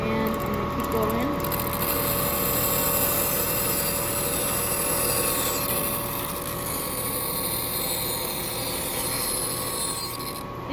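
A bandsaw cuts steadily through wood in a workshop, giving a continuous, loud whirring rasp with a constant machine hum and no break for about eleven seconds.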